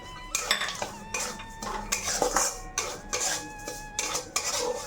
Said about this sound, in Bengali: এখানে একটু কাজু কিশমিশ নিয়েছি, আগে কাজুটা এর মধ্যে ভেজে নেবো,